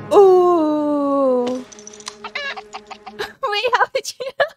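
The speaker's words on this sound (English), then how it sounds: "We have a chicken." A chicken in the film Back to the Future Part II gives a long, drawn-out squawk, then a run of quick, choppy clucks, loud and close.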